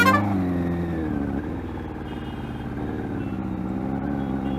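A Yamaha R1 motorcycle engine runs close and loud, its steady tone dipping and then climbing as the bike goes into gear and pulls away.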